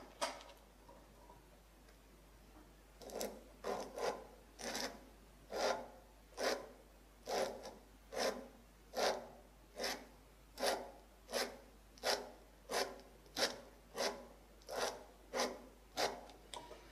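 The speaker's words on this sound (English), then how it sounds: "15 seconds worth of rubbing with the sandpaper, the 240 grit" Steady back-and-forth rubbing of 240-grit sandpaper across a wooden hand plane, about fifteen even strokes in a regular rhythm, close and fairly quiet with no talking.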